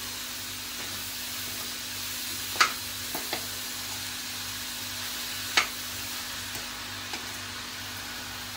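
A coconut barfi mixture sizzles steadily in a pan, a continuous frying hiss with a few soft scrapes and taps from stirring.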